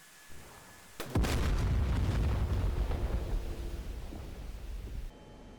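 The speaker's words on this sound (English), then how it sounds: "It's gonna be a big explosion." A loud explosion of a boat struck in an F-16 flight simulator game booms, followed by a rumbling roar that slowly fades over several seconds.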